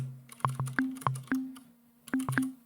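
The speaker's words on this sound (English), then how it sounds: "It's just a goofy sine now with a filter." A Synth1 software synthesizer playing a plain sine oscillator through a filter, a short melodic phrase of distinct plucked notes with steady pitches, clear and close, no voices.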